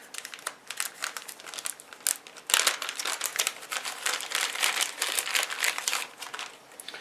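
A paper instruction manual for a 2021 Ford F150 dash camera kit is handled and unfolded, giving close, steady crinkling and rustling with a sharper crackle midway.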